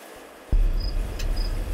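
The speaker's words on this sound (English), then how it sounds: "You can hear it underneath the crickets there." Crickets chirp steadily in the background, with the low-frequency Windsor Hum rumble starting partway through and continuing underneath.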